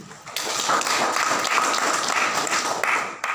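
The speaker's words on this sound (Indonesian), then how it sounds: "Kita tepuk tangan dulu." An audience at an Indonesian civic outreach event breaks into steady applause, a dense wash of clapping that holds for about three seconds.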